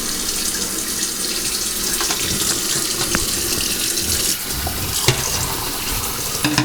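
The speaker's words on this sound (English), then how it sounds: "We run cold water in it, right?" Cold water pours steadily from a kitchen tap over freshly boiled hot eggs in a pot, a loud continuous splashing rush with a few small clunks and no talk.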